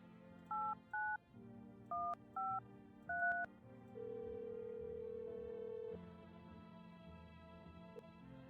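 Telephone keypad dialing tones while calling a food delivery service, five short paired beeps in an uneven rhythm, then a longer steady tone and a faint line hum.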